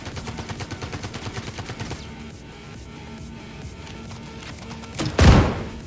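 Rapid gunfire in the VR shooter VR Citizen, a steady string of shots that stops, followed by a quieter stretch and then a heavy thudding blast.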